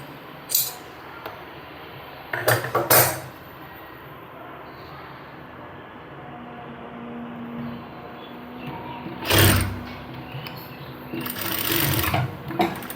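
A sewing machine stitches the front neck onto a kurti in several short, loud bursts of whirring that stop and restart, with quieter gaps between runs.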